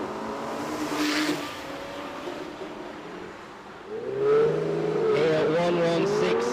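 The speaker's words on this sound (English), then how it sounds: "On the start line, a Ferrari Pista, the very new offering from Ferrari." Ferrari Pista supercar idling and revving on the start line of a motorsport event, a steady engine drone that swells into a louder rising rev partway through, with a commentator's voice over it.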